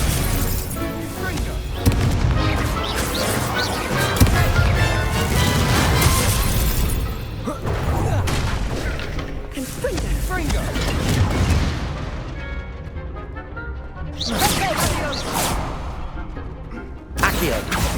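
Hogwarts Legacy spell casting: repeated magical bursts, booms and crackling impacts in quick succession, loud and dense, with a player voice speaking spell names over them.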